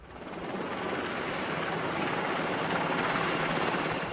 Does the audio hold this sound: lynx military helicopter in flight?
yes